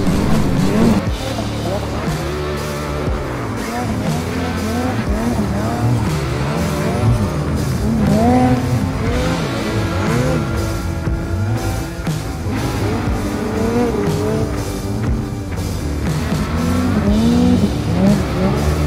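A car engine revs hard and rises and falls repeatedly as the vehicle strains on a snowy hill in heavy snowfall, with a worn belt, loud and close, with voices talking over it.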